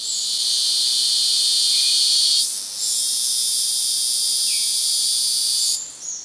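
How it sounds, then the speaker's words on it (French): A loud, piercing, continuous high-pitched drone of a male Guyana cicada in the Antilles, steady and shrill with a brief dip midway and a fade near the end. "les mâles de la cigale de Guyane produisent un son assourdissant pour attirer les femelles de leur espèce"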